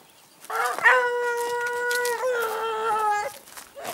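A hunting dog on a hare's scent trail bays nearby in one long, wavering howl that holds for a few seconds before trailing off.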